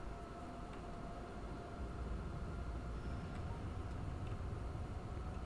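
A train rolls in during the video game Factorio, a steady low rumble with faint tonal hum holding at an even, moderate level throughout, with no talking over it.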